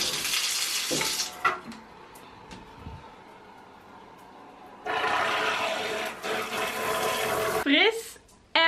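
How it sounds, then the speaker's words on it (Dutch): Shower water runs in a home bathroom, a steady broadband hiss that starts, cuts off for a few seconds, then resumes loudly, with short knocks and handling sounds in the gap. "It's time to take a shower."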